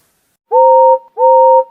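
Two clear whistle blasts, each about half a second, sounding a steady two-tone chord with a brief gap between them, loud and close.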